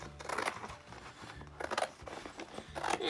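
Scissors snip through green paper while a tree shape is cut out, giving soft, close crunching cuts in short irregular bursts at a quiet level.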